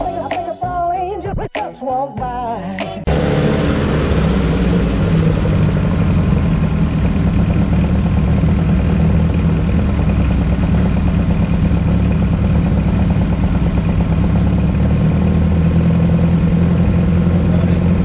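A tractor engine runs steadily after a Seafoam carburetor treatment, a loud, continuous mechanical drone with clatter that starts abruptly a few seconds in, following a brief stretch of voice.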